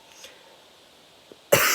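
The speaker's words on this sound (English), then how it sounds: "I had to cough." A single sharp, loud cough bursts out at the very end after a near-silent stretch with only faint room noise.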